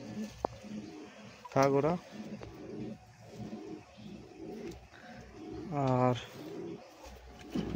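Two soft, harmonic coos from satin and lakkha pigeons near their chicks rise briefly and close by, with someone talking quietly through the rest.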